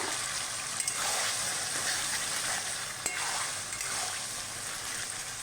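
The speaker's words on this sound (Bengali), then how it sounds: "এবার আমি মাটন মাখাটা দিয়ে দিচ্ছি।" Marinated mutton goes into hot spiced oil in a handi for Bengali-style curry, setting off a loud, steady, close sizzle with wet spattering and stirring scrapes.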